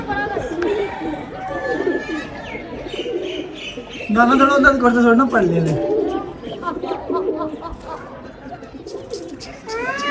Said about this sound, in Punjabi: ਤਗੜਾ ਕਬੂਤਰ ਆ